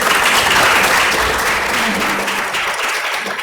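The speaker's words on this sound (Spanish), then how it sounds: "Un aplauso." An audience applauds after a film screening, a dense steady clatter of many hands that fills the whole stretch and tapers slightly toward the end.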